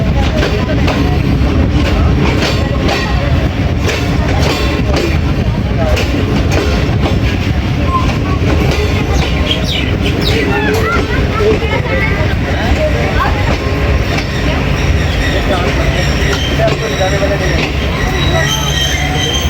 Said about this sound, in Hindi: 12:05 पे गोला शरीफ जंक्शन पे अप्रोच बना रही है हमारी ट्रेन 14 डाउन अवाम एक्सप्रेस 6403 के साथ